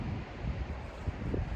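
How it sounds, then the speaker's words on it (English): Low, blustery wind buffeting the microphone beside the Deschutes River, a steady rumble with no voices. "It is a little bit windy"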